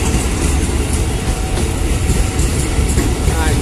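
Passenger train 6129 rushes past close by near Pasar Senen station, a loud, dense roar of wheels and rail clatter that fills the whole stretch without letup.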